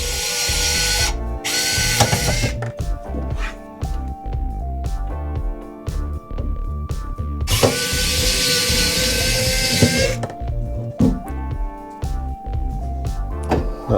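Fanttik E2 Ultra electric screwdriver backing out tight case screws on a tape deck, buzzing motor whirs in several short bursts broken by pauses and small clicks, close and clear with nobody talking.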